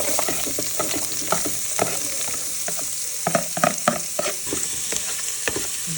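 Chopped onions fry in a pan with a steady close sizzle, while a spoon stirs them, scraping and clicking irregularly throughout, with no talking.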